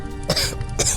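Two sharp, raspy coughs from a man, close to the microphone, separated by a brief pause.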